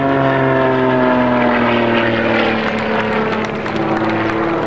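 An aerobatic propeller plane performs maneuvers at an air show, its loud, steady engine drone close and slowly shifting in pitch.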